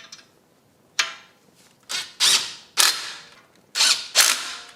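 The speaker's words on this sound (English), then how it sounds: "now we're gonna have to take our thin wrench to get these tightened down" A thin wrench tightens the brake caliper bolts on an Audi Q3, six or seven sharp ratcheting, creaking strokes close by, each one loud at first and then fading, with short pauses in between.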